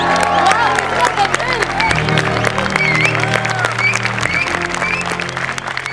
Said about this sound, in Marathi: जोरात टाळ्या